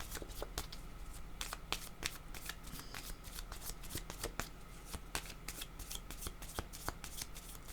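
Tarot cards are shuffled by hand close up in soft, rapid bursts of riffling and sliding, a quiet papery flutter repeating steadily with no talking.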